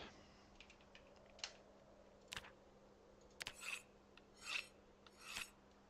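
In the video game Project Zomboid, an axe is sharpened with quiet, intermittent rasping strokes, short gritty scrapes spaced irregularly over a faint steady hum.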